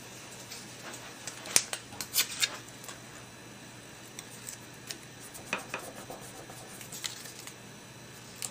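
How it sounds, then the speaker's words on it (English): Tape pulled and pressed down onto a handmade Christmas card, close and fairly quiet, with scattered crisp rustles, pats and a couple of sharp tearing ticks against a soft steady background hiss. "now I'm going to come in with some tape and tape it down"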